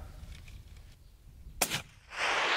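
A single sharp rifle report during a hunt in Africa cracks out in the open air, followed by a short fading rumble and a burst of rushing noise.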